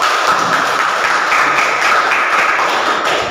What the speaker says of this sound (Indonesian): tepuk tangan buat Nopal.